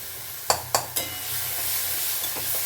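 A spoon scrapes through dim dhoka, an egg curry, in a pan, with three sharp knocks followed by a steady frying sizzle and faint stirring scrapes, close and with no voices.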